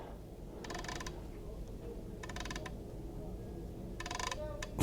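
Rifle scope turret on a .375 CheyTac rifle dialed for wind, three short bursts of crisp mechanical clicks, close and fairly quiet, separated by pauses over a low background rumble.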